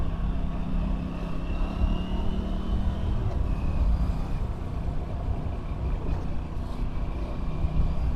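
A 2025 Aprilia RS 457 motorcycle with a headlight fault pulls away on a rough road, its engine a steady close drone under heavy wind rush that continues throughout.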